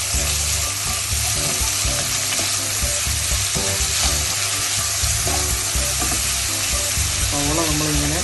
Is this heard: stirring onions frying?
yes